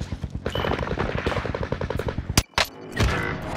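Rapid machine-gun fire in a video game rattles close and loud in a fast steady burst, followed by a couple of separate sharp shots after a short gap.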